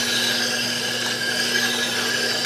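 A Tormek wet sharpener's coarse stone grinds an Ellsworth grind onto a wood turning gouge, giving a steady, continuous abrasive hiss with a low motor hum beneath, close and even throughout.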